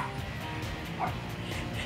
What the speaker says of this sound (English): So she barks whenever you say John Force